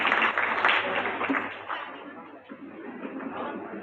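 An audience claps at a members' meeting for a small family-level program, fairly loud at first, thinning and fading as the clapping goes on with some background noise.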